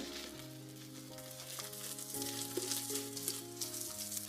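Chopped onion and green chilli fry in hot oil with cumin and chana dal for a drumstick milk curry, with a steady sizzle and occasional stirring over a background of music.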